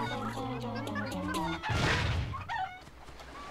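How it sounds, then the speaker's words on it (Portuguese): Chickens clucking in a Crash video game, a run of rhythmic, close clucks followed by a noisy flutter or squawk burst and a short higher cackle. "Ô, galinha."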